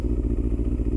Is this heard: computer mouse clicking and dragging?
no